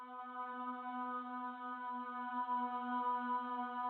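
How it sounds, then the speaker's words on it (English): A sustained, choir-like synth pad holds one steady chord with rich harmonics, smooth and unbroken throughout. "I found like this single long note like texture sound"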